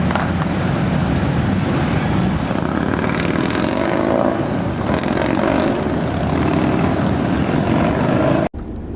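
A propeller airplane skywriting over Daytona Beach, a loud, sustained droning engine roar that holds steady throughout, cutting off abruptly near the end.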